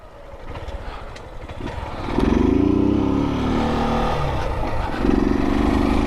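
A motorcycle with a sticking brake idles low, then its engine revs up sharply and holds a strong, steady drone, easing slightly before a second rev rises near the end.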